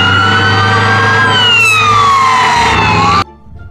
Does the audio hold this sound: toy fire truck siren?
yes